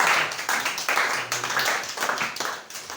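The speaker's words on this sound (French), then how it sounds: "Acclamez pour le Mario." Church congregation applauding during a service, steady lively clapping from many hands in rhythmic surges, loud and close, with a faint voice briefly underneath.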